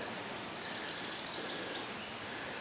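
A brook beside a campsite in the Adirondacks flows in a steady, even wash of water, with faint birdsong and no talking.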